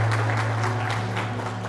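A church congregation at a Palm Sunday service breaks into clapping, a brief burst of many hands over a low sustained hum that fades slightly toward the end.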